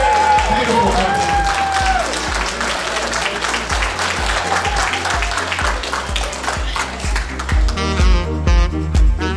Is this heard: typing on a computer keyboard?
no